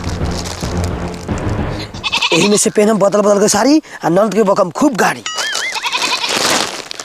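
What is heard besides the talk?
goat bleating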